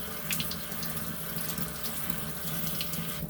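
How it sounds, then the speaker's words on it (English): Tap water runs continuously over a bottle being rinsed out in a sink, with splashing and gurgling shifts as the stream hits the plastic, steady and close with no voices. "and I rinse it off"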